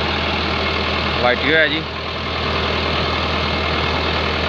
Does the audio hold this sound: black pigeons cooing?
no